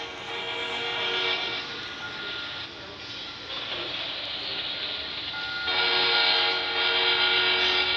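A train in a video game rolls along steadily, a dense rumbling hiss with bright metallic ringing tones that swell near the end; no voices are heard.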